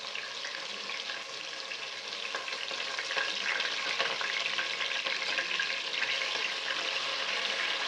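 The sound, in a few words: sautéing ginger-garlic paste and green chillies for prawn curry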